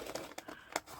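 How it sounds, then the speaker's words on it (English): Paper being cut with scissors by hand while shaping small leaf designs for a junk or art journal, giving a few close, quiet crinkling snips and rustles spread over about a second, with no talk. "Cutting back this way."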